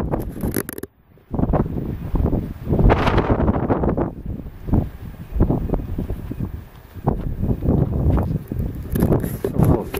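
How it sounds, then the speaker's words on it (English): Strong gusty wind on a desert trail, buffeting the microphone in loud, rough bursts that rise and fall almost continuously, with only one brief lull. "Very windy today."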